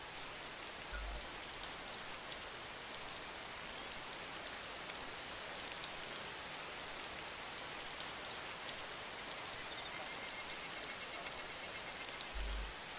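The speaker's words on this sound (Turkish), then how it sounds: "Hey, I can't hear you because of rain." Steady, even rain falls in DayZ, a continuous hiss of drops on surfaces that fills the whole stretch without letting up, with no voices over it.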